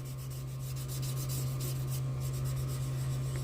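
A sanding stick is guided lightly over a Revell 1969 GTO Judge model car body during wet sanding, producing a close, steady rasping rub that continues without pause and without speech.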